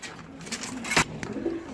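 Large racer pigeons, part of a pair offered at a wholesale pigeon sale, give a short burst of soft, close cooing with a brief flutter-like rustle in the middle.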